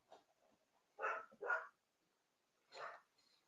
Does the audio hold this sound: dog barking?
yes